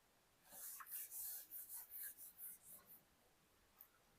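Pen writing numbers on paper while working a square root problem, a quiet run of short rhythmic scratching strokes up close, then a pause and one last faint stroke.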